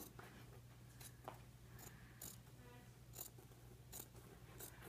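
Scissors cut through a muslin pattern along the side seam line in a few short, quiet snips spread across a faint background hum.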